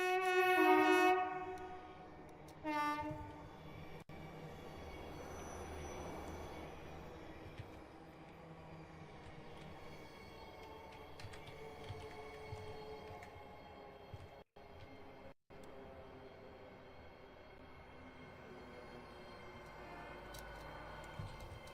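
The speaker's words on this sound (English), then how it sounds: "I could listen to the sound of them motors all day." Diesel locomotive motors drone steadily in the Train Simulator Classic game on a western express run, with two loud horn blasts at the start and a long rumbling engine hum carrying on alone.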